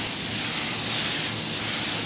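A paint spray gun hisses continuously and loudly, spraying silver metallic paint onto a panel in a steady, even rush of air and mist with no voices.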